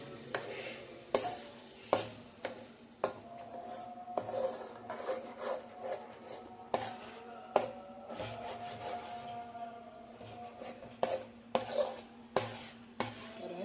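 Masala for an egg dish stirred in a pan over a low flame: quiet, repeated scraping and tapping of a spoon against the pan at an irregular rhythm, with a faint steady hum behind it.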